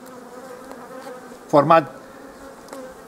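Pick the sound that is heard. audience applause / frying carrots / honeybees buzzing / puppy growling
honeybees buzzing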